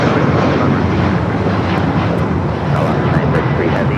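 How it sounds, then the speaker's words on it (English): A Korean Air airliner taxiing at LAX sends a loud, steady jet rumble and whine mixed with wind buffeting, with someone talking over it. "there is the beautiful Korean Air Queen about to make the right-hand turn out to taxiway Kilo"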